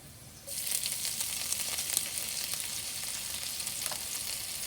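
Grated ginger hits a hot pan already holding chilies and curry leaves, bursting into a loud, steady sizzle after a brief quiet start and holding it continuously, with no voices over it.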